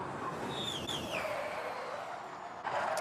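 Onboard a Formula E electric race car in qualifying at the Diriyah E-Prix, the left front wheel locks under braking, a high whining motor tone sweeping down with a tyre squeal, loud and close, ending in a brief scrub.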